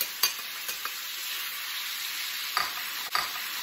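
Bacon fries in a pan with seared chicken, giving a steady soft sizzle with a few brief utensil scrapes and clicks, quiet and without speech.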